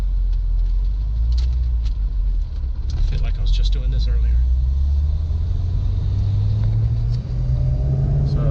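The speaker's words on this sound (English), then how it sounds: "get to hear the exhaust, and get you some sound clips" Corvette C6 ZR1 with a titanium exhaust driving along, its deep engine rumble steady and close beneath someone talking, with the pitch slowly rising toward the end.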